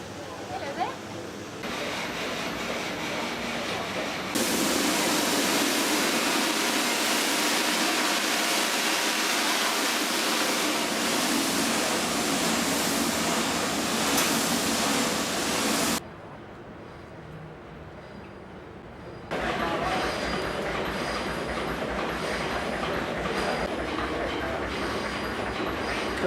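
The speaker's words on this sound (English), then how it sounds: "Pistons which make the crankshaft turn and make the propeller go round." Coal-fired steam engine aboard a boat in Queenstown, pistons driving the crankshaft that turns the propeller, a loud steady mechanical rush and rumble that drops briefly near the end before resuming.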